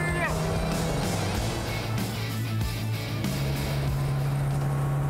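A 1970s sports car engine, a Ford Capri RS2600 or BMW, whines and drones steadily while driving, loud and close inside the cabin, with a pitch shift partway through, under continuous talk.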